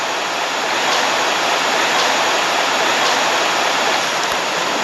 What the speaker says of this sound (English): It sounds like something is peeing from the tree. Just this water pouring.